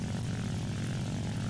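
Steady droning propeller plane engine in a Minecraft planes mod, a constant low rumbling hum heard close and alone throughout.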